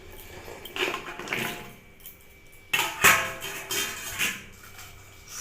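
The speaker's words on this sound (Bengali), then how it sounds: "কচু ধুয়ে নিয়েছি, এবার প্রেসার কুকারে দিয়ে দেব।" Washed taro pieces drop into a metal pressure cooker with clattering, knocking thuds and scrapes in two bursts, separated by a quieter pause. No voices.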